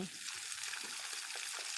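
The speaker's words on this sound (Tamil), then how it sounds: "தண்ணி மழை மாதிரி கொட்டுது" Steady hissing spray of water falling continuously, like a downpour, with faint murmured voices underneath and a brief knock at the end.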